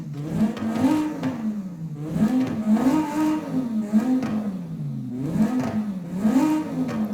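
A BMW fitted with a swapped-in V10 engine revs repeatedly in the racing game Forza Horizon 5, its pitch rising and falling in steady waves, loud and close with no talk over it.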